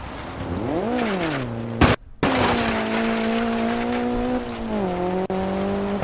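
Rally car engine revving loud and close in DiRT 4, pitch climbing and falling through gear changes with steady harmonic drone, a brief cut near two seconds, and tire noise underneath.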